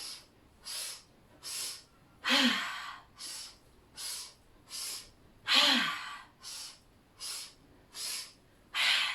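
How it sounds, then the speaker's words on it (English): Steady, slow breaths during a yoga breathing exercise, close and soft, coming as regular airy pulses about once a second, with two longer, deeper inhales standing out partway through. "We're going to inhale."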